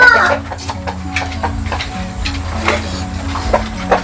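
Crossbred kampung chickens and a large rooster cluck and scratch nearby in short, scattered calls over a low background rumble.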